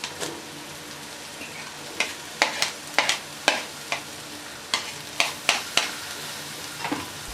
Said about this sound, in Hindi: अदरक लहसुन अच्छे तरीके से फ्राई हो चुका है। हरी मिर्च डालेंगे।